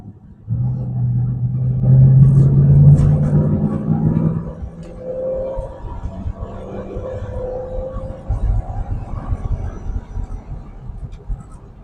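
A 1969 Daimler V8 250 with its V8 engine pulls away from a junction under acceleration. A loud, deep rumble swells, then eases into a steadier, lower drone as the car carries on.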